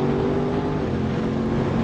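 Aprilia RS660 sport motorcycle being ridden, its engine a steady loud drone with a rough, continuous hum close by and no talking.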